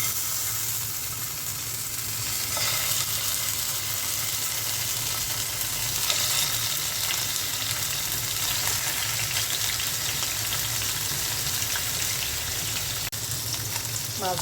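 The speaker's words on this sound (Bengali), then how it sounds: "মাছগুলো কড়া করে ভেজে নেব" Spice-coated bata fish frying crisp in a pan: an even, steady sizzle and crackle of hot oil runs unbroken close by, with a sharp knock near the end.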